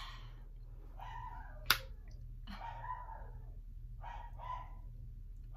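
A small dog barks several times in short yips at moderate distance, with a sharp snap-like click early on and a low hum underneath.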